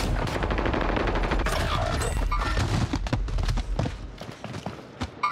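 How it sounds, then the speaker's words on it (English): Rapid bursts of incoming gunfire in a shooter video game, dense and loud throughout with booming low end, overlapping shots and fusillades that thin slightly toward the end. "Fuck, taking fire."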